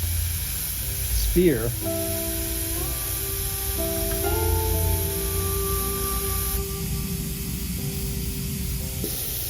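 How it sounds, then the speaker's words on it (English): Steam hisses steadily from a campfire-heated water pump sphere that is losing pressure, a broad continuous rush under a person talking, with a steady tone running alongside. "I know we're losing some steam through here."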